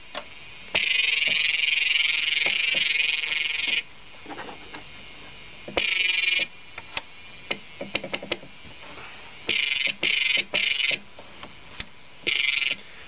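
A Yamaha CS40M analog synthesizer plays modulated tones: bursts of buzzy, croaking sound switch on and off irregularly, broken by gaps filled with sparse ticking clicks, moderately loud with no talk.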